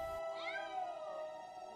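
A cat meows in the adventure game Grim Fandango, a single drawn-out, rising then falling meow heard fairly close over a steady background of game ambience, with no talking.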